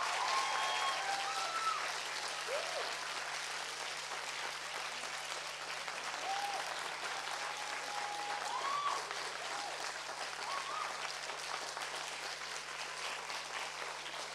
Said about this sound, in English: let's just have one more round of applause for our students